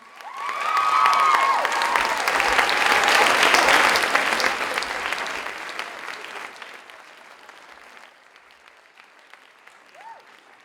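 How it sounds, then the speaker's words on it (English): An audience at a school poetry festival applauds the poets with dense clapping and some cheering, swelling and then tapering off, with a brief voice and faint whistle-like tones near the start. "I think we need to applaud our poets one more time"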